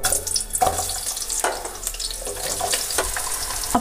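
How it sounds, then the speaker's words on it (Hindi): Onions dropped into hot mustard oil in a kadai give a steady, close hiss. Sharper crackles and spits rise above it again and again, and no one speaks over the frying. "अब तेल के अंदर प्याज डाल देंगे।"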